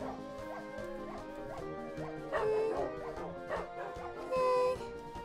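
Several dogs in the Minecraft Dogcraft video game bark and whimper in quick, overlapping yips, close and busy, with a couple of louder bursts toward the middle and end.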